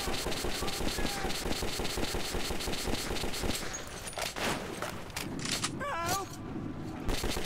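Rapid automatic gunfire from the video game Metro 2033 rattles in a fast, steady stream for several seconds, then breaks into scattered shots and noise as voices shout.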